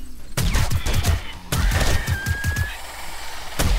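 Heavy-recoil gun in the zombie survival game 7 Days to Die, firing rapid loud bursts in two long volleys separated by a brief gap, with a whining tone sliding under the second volley.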